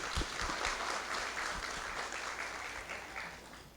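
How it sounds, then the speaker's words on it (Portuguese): A class group in a basic Spiritism course gets a steady burst of clapping from a roomful of people, dense and continuous for several seconds without any talk over it. "Palmas para o grupo 1, né?"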